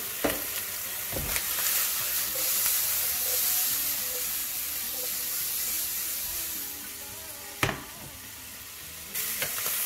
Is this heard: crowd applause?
no